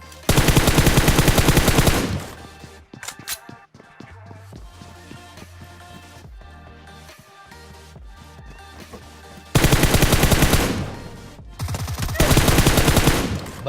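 Automatic gunfire in PUBG Mobile, a suppressed UMP submachine gun: rapid loud bursts open the clip, then quieter game sounds and thuds, and two more dense bursts return near the end.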